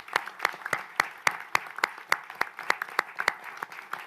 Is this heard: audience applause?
yes